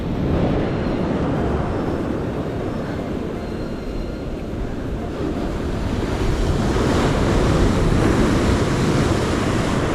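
Foamy sea surf washing over a shallow shore, a loud, continuous broadband roar of churning water with steady wind noise and no pauses.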